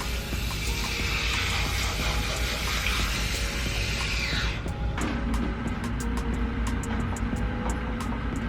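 Water runs steadily from a tap while hair is rinsed, a loud continuous rush whose tone shifts abruptly about halfway through, then goes on under faint splashing.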